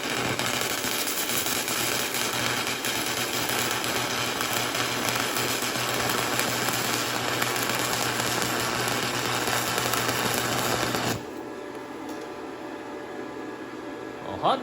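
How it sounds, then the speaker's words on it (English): A YesWelder TIG 205DS welder arc welding at 100 amps gives a steady, hissing buzz that runs evenly for about eleven seconds, then cuts off to quieter background hum. "That's some arc welding."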